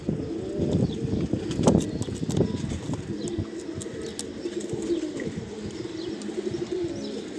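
Sialkoti pigeons cooing, low throaty coos overlapping continuously nearby with a few faint chirps mixed in, and no speech.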